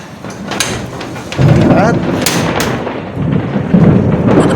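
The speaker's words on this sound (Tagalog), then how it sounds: "Kung naririnig nyo, kumukulog-kulog." Low thunder rumbles and swells in the background while a person talks in Filipino over it near a mall under an overcast sky, with a few sharp knocks mixed in.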